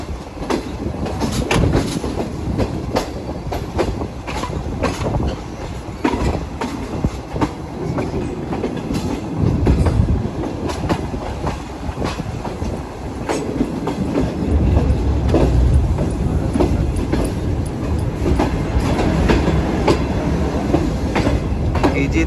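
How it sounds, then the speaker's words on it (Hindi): The Shalimar Express pulls into Multan Cantonment station in Pakistan with a loud, continuous rumble and wheel clatter that rolls on without a break. "राइट टाइम हमारी ट्रेन पहुंच रही है मुल्तान कैंट।"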